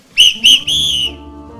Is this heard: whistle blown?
yes